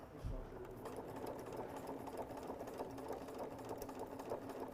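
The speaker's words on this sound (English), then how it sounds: "I'm back stitching, and I'm just sewing directly through that soft Velcro just around the exterior." A sewing machine back stitches through soft Velcro around the edge of a stuffed nativity figure, its needle running in a steady, continuous mechanical whir at close range with no break.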